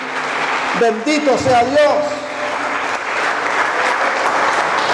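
A church congregation claps its hands steadily through a Spanish-language Sunday worship service, a dense, sustained wash of applause filling the room while a voice speaks over it.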